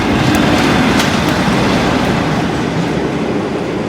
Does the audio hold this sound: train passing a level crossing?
yes